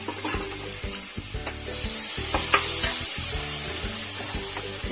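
Curry leaves and ginger-garlic-chili paste frying in hot oil in a heated pot give a steady, bright sizzle, with a run of soft stirring scrapes and knocks underneath. No one speaks.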